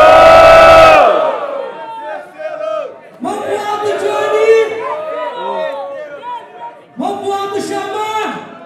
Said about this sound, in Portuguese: Quem achou que o melhor do momento foi Johnny, faz barulho?